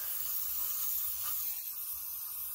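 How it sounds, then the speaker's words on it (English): A steady, hissing spray of throttle body cleaner into a 2006 Lincoln's throttle body runs continuously and close for a couple of seconds, with no pause in the jet. "I'm gonna spray some carbon or throttle body cleaner in there"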